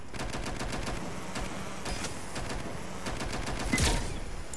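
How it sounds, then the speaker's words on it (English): Rapid gunfire in the video game Watch Dogs: Legion, a fast run of crackling shots that sounds fairly distant and moderately quiet, with a brief sharper burst near the end and no talk. "Shots fired! They're shooting!"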